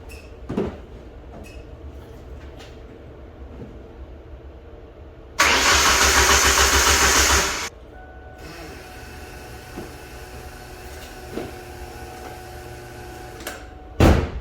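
A Ford Mustang SVO's 2.3 turbo engine with a low-voltage fault cranks in one loud burst of about two seconds, then a quieter running drone carries on with scattered clicks and knocks nearby.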